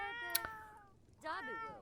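A cat in The Sims 4 video game gives two short, clear meows, the first brief and bright, the second longer and bending in pitch, heard close.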